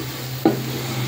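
A single brief scrape of a spoon through spices being sautéed for khichdi in a home kitchen, heard once against a steady low hum.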